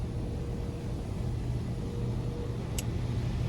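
A touchless automatic car wash machine starts up around a car, giving a steady low rumbling and humming drone with a brief high hiss near the end.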